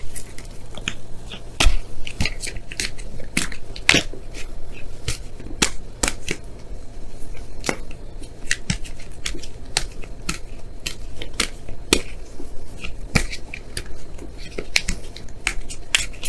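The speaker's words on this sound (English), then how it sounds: "I'm going to pull you guys your wisdom of the Oracle card for this week." Oracle cards shuffled during a love tarot reading: a steady run of crisp papery riffles and snaps at close range, with no talking.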